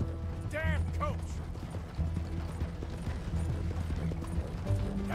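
Horse hooves in Red Dead Redemption 2 during a mid-chase switch of mounts, a quick clip-clop rhythm under game effects, a brief whinny near the start and someone talking over it.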